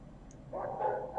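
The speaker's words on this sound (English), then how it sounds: "Barking dogs." A single short dog bark in Bangkok, fairly distant, rising out of quiet background hum.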